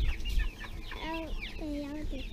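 Several Rhode Island Red chickens cluck and squawk nearby in short rising and falling calls, with a low rumble at the start.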